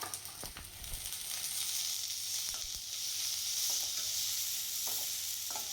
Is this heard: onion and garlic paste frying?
yes